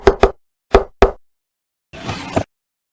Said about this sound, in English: The seasoned agent casually raps out his famous secret knock.